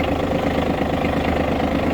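A Mitsubishi GE-150 Japanese mini tractor with 140 engine hours idles steadily, a close, even diesel-like chug with a low rhythmic knock and no talk.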